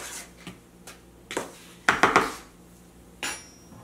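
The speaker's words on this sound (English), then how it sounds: "with this spoon, you stir this up anyway" A metal spoon stirs sugar in a bowl, making several short scraping clinks against the bowl at an uneven rhythm, close by and moderately loud, with no talking.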